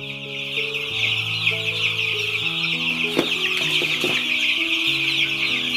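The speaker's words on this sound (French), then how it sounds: "Je vais déposer ce poussin pour ne pas stresser." Broiler chicks in a heated poultry house keep up a dense, steady chorus of high chirping, with occasional louder peeps standing out over background music.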